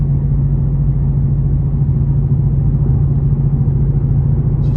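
A Ford Mustang GT500 cruises steadily on a light country road, its engine and road noise forming a continuous, even low rumble with no revving or voices.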